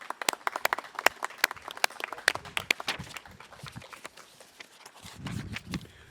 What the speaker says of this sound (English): So let's give them a big hand of applause.